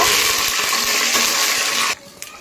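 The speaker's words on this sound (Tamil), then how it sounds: "கடுகு, கடலைப்பருப்பு, உளுத்தம்பருப்பு போட்டு நல்லா கடுகு பொரியிற அளவுக்கு நல்லா வறுத்துக்கோங்க" Mustard seeds, chana dal, urad dal and curry leaves frying in hot oil give a loud, close, steady crackling sizzle that cuts off abruptly near the end, followed by a faint clink.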